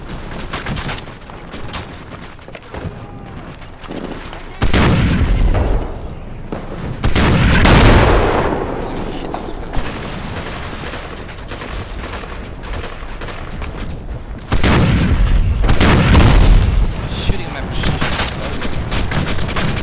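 Gunfire and explosions fill a World War II shooter match, with steady rifle and machine-gun fire, heavy booms and loud bursts recurring under players' voice chat.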